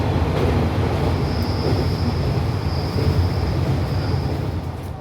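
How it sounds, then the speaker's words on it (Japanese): A local train heading toward Kokura on a Kyushu line shared with Heisei Chikuho Railway, with a steady loud rumble of wheels and carriage noise and a faint high whine, continuous throughout. "列車は小倉方面にさらに進んでいきます。"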